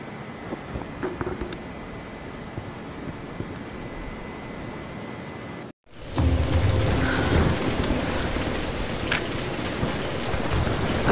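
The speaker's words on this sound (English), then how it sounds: "We're getting closer to the storm." Heavy storm rain pours steadily in the Tomb Raider game, quieter at first, then cutting to a louder, denser downpour with low rumbling thunder underneath.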